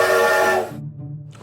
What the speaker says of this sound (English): 1 long whistle